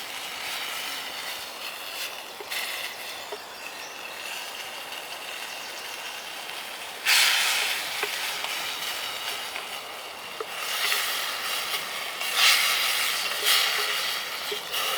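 A camping stove burning hot during a hammock camping trip, giving a steady broadband hiss that swells in louder bursts now and then, close and continuous with no talk.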